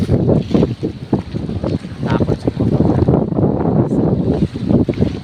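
Gusty wind pounds the microphone in loud, uneven bursts over a low rumble of sea water at a baywalk, continuous and close.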